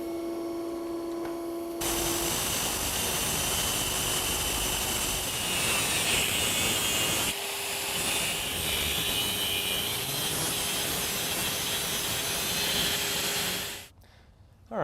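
Steady, loud whining grind of a cutting tool slicing through an electric motor shaft for a dual-motor electric vehicle drivetrain, running unbroken for about twelve seconds with a brief pitch change midway, then stopping.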